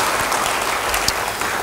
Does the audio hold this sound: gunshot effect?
no